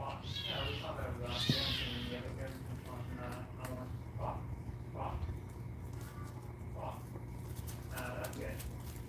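A cat meows several times, short rising cries scattered across a quiet indoor room with a steady low hum, while a person talks softly at times.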